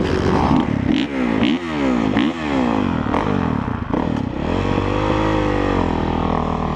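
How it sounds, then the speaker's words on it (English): A Honda motorcycle with a stock exhaust revs hard close by, its engine pitch sweeping up and down through several rapid throttle blips before settling into a loud, sustained drone. "stock exhaust. Honda sounds so bad though, I love it."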